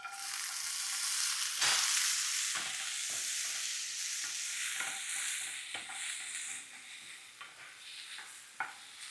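Sprouted peanuts with chili powder and turmeric fry in a pan, a continuous close sizzle broken by repeated scraping stirs of a spoon at an uneven rhythm.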